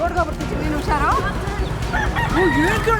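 A fighting rooster in a Philippine village crows loudly in a drawn-out call, while people talk and shout nearby and other fowl cluck in the background.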